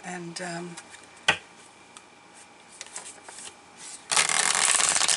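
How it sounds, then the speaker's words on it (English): Tarot cards being pulled from a deck and handled, giving soft papery shuffles and flicks with one sharp snap, ending in a louder burst of continuous card riffling. "I'm going to pull some brand new cards"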